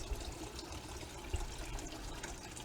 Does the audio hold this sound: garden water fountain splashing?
yes